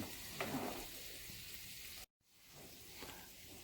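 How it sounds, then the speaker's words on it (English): Spaghetti sauce sizzling in a warm pan, a steady hiss with brief stirring bursts, cut by a short dropout midway before the soft sizzle resumes; no talking. "We tend to go ahead and add the sauce in as it sits here on the pan."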